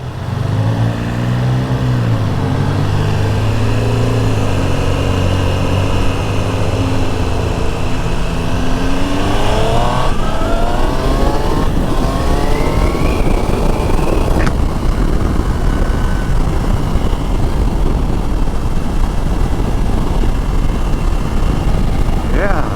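A 2025 Triumph Tiger Sport 800 motorcycle accelerates along a suburban road, its engine note climbing in pitch through the gears over steady, loud wind rush that lasts throughout.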